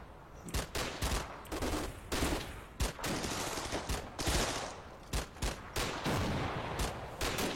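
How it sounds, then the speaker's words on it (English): Rifle grenade explosions, heard as a rapid string of sharp, loud blasts and cracks in irregular bursts over a constant roaring background, with no pause long enough for quiet. "It was a rifle grenade."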